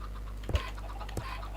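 Chickens in a Minecraft-style survival game give a few short, sharp clucks, isolated bursts with quiet gaps and a louder cluck at the very end.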